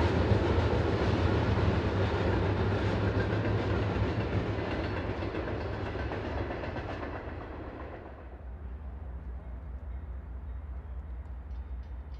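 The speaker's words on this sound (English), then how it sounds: "A Canadian Pacific manifest is heading west through La Crosse Amtrak station towards the bridges over the Mississippi into Minnesota." A Canadian Pacific manifest freight train rolls west through the La Crosse Amtrak station in Wisconsin, a loud, steady rumble with wheel clatter that thins out toward the end as the cars pass.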